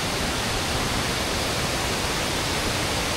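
Strong rushing water from a waterfall, a loud, steady broadband roar that fills the whole clip without pause.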